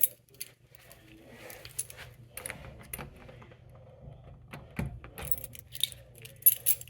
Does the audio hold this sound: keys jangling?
yes